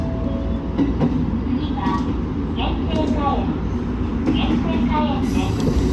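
A JR Hokkaido train on the Shiretoko Peninsula rumbles steadily from inside a carriage crowded with high schoolers, with a constant low roar, faint rattles and squeaks, and people chatting in the background.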